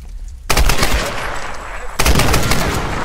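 Loud automatic gunfire in Tomb Raider, a sustained burst of rapid shots that starts abruptly after a quiet moment and surges again midway, close and dense.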